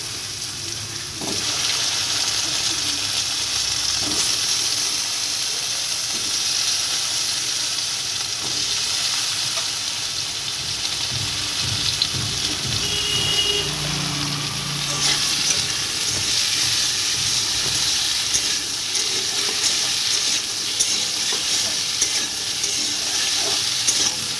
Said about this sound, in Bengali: তারপর আলুগুলো ভেজে নেব আলু আর গাঁটি কিছুটা ভেজে নেবো